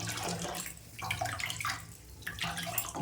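Grated ash gourd is squeezed by hand to wring out its water for lentil bori, giving a close, steady wet trickling and splashing sound that swells and eases in pulses without any speech.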